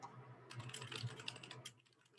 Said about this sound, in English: So let me kind of type that too.